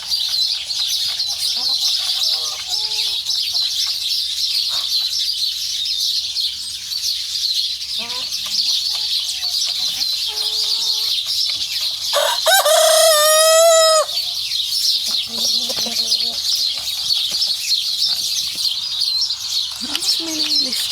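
Chickens cluck steadily close by while a rooster lets out one loud crow partway through, with a constant high insect-like hiss and scattered chirps in the background.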